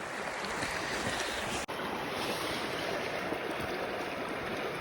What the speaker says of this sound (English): all of this water is coming from the melting glacier